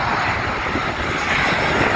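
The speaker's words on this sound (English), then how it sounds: "There's the 737" A Southwest Airlines Boeing 737 passing close by near LAX, its jet engines producing a loud, continuous broadband roar that holds steady and swells slightly, with wind in the background.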